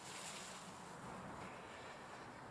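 Water from a hose rushes steadily over the exposed roots of an elm clump, washing away soil as an even, hissing wash with no pauses.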